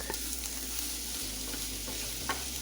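Salted food for stuffed bell peppers stirred in a hot pan, a constant close sizzle with a few soft stirring scrapes and a low steady hum underneath.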